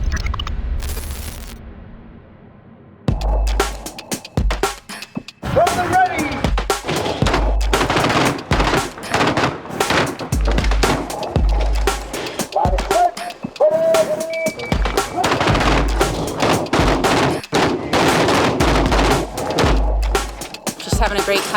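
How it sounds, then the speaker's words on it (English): Rapid bursts of gunfire from weapons at an outdoor shooting range crack repeatedly and loudly, nearly continuous volleys and single shots over about twenty seconds, with voices faintly underneath. "Having a great time out shooting, finally."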